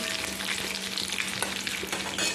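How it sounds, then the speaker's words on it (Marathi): Steady sizzling and crackling of mustard seeds spluttering in hot oil for tempering, close and continuous with occasional pops, no voices. "मी आता त्याला फोडणी देते मी छानपैकी फोडणी अशी गरम झालेली आहे"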